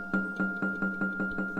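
Repeated taiko drum sample in a music production track, hit about every fifth of a second in a steady, even pulse; each strike is loud and close with a short decaying tail over a sustained tonal backing.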